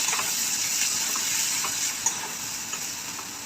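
Turmeric, chili powder and coriander powder being stirred into a hot frying pan for spicy suran (elephant foot yam) bhaji, a loud continuous sizzle close by with a couple of light stirring knocks near the end.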